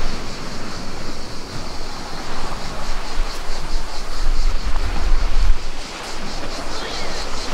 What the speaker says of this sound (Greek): Θέλεις θάλασσα? Να την και η θάλασσα.